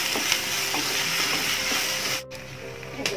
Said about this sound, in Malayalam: നെയ്യിൻ്റെ ഒരു ടേസ്റ്റിൽ നന്നായിട്ടൊരു ചെറിയൊരു മഞ്ഞ കളറാവുന്നത് വരെ ഒന്ന്